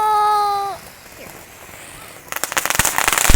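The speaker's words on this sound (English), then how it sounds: "The fireworks, isn't it pretty?" A fireworks display follows a rising whistle, sending out a rapid burst of sharp crackling pops that grows louder toward the end.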